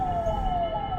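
An ambulance siren wails steadily, stuck in stalled traffic, loud and close with a continuous rising sweep over rumbling road noise for the whole second.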